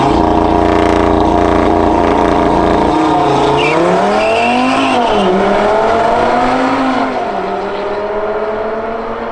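Race cars, an Audi RS4 and RS5 among them, launch off the line at a private track event at Killarney. Engines roar loud and close, revving and rising through the gears, then fading slightly as they pull away.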